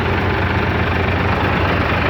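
A 2012 FAW 24-valve truck engine, never overhauled, idles with a steady, dense low rumble, close up and continuous with no voices.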